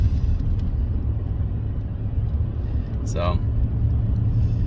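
A Honda Accord with a newly replaced fuel pump cruises along, heard from inside as a steady, low road and engine rumble, with a brief voice and a short higher-pitched sweep partway through.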